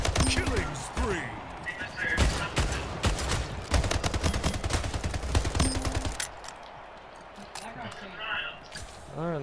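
Rapid bursts of gunfire in the arena shooter Splitgate, dense automatic volleys with sharp repeated cracks dominating most of the stretch before easing into quieter game sounds, with a voice talking over it.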